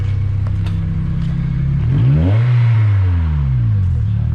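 Acura RSX with an H2B engine swap idling roughly, then revving up sharply and falling back, the rising and falling engine note clear and close, with faint outdoor ambience.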